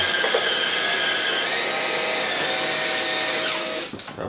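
A JIMMY JV85Pro vacuum cleaner runs at maximum power with a loud, steady motor whine and airflow roar that holds for several seconds, then drops away abruptly near the end.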